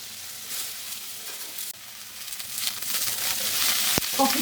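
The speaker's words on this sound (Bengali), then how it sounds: "কফিটা লাল লাল করে ভেজে নিয়েছি, তুলে নেবো।" Cauliflower fries in oil until reddened, a steady hissing sizzle that swells louder toward the end, with a sharp clack of a utensil near the close, no talking.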